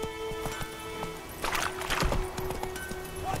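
Roach the horse galloping in The Witcher 3, quick rhythmic hoofbeats clip-clopping over a bed of game ambience, with a brief snort near the middle.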